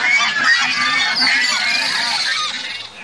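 Ducks on a small village farm quack and honk in a dense, overlapping chorus in a Bengali cartoon about a fox stealing a farmer's ducks, loud and continuous for the whole stretch.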